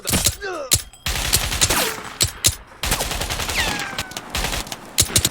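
Video game firefight with dense bursts of automatic gunfire and single shots, loud and close, with bullet whizzes and ricochet-like sweeps between volleys.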